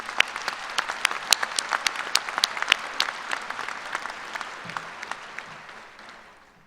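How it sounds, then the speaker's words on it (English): An audience at a graduate school commencement ceremony applauds, with many crisp individual claps standing out over a full round that gradually thins and fades away by the end. "Please join me in giving a round of applause to these individuals."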